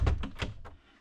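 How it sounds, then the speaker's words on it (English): A cabin door shutting aboard an Azimut 42 motor boat: a few close wooden knocks and a soft thunk as it closes, then quiet. "Let's just shut this door for a moment."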